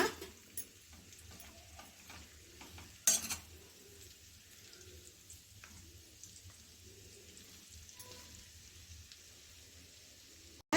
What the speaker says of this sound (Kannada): ಸ್ವಲ್ಪ ಒಂದು ಅರ್ಧದಷ್ಟು ಫ್ರೈ ಮಾಡಿ ತಗೊಳ್ಳೋಣ ಅದು ಸ್ವಲ್ಪ ಕ್ರಂಚಿ ಆಗೋ ಥರ ಫ್ರೈ ಮಾಡ್ಕೊಳ್ಳೋಣ